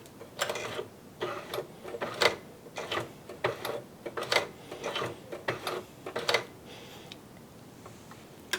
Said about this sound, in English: With the foot down, I can hold the threads and hand wind.